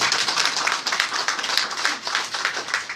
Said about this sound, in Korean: 왜 박수 치시려고?